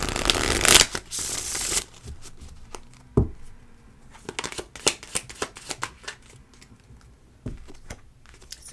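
Tarot cards shuffled by hand in a series of crisp riffles and soft flutters, close and fairly loud at first, then lighter irregular slaps and card clicks that come and go with short pauses.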